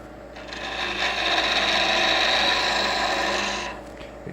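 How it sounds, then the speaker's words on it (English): A lathe tool cuts into brittle wood as an oil lamp is turned, a steady rasping, scraping hiss that swells over about three seconds and then drops away, close and fairly loud with no talk. "You can hear how brittle that wood is."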